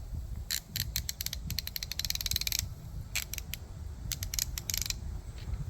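Clicking of a GearWrench 1/2 inch ratchet, bursts of rapid fine ticks repeating in several quick runs, close and fairly quiet over low background rumble, with no talking.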